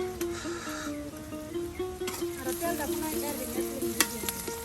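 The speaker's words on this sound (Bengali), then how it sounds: "পেঁয়াজ রসুন জিরা সব কিছু কিন্তু তেলে ভেজে নেওয়া হয়েছে" Onion, garlic and cumin fry in oil with a steady, close sizzle, while a clear melodic tone rises and falls over it throughout.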